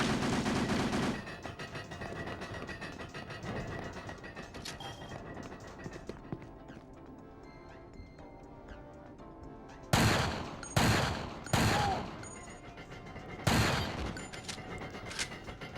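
Enemy gunfire in Resident Evil 4, a loud blast at the start, then quieter game ambience with scattered clicks, followed by four sharp shots about a second apart near the end.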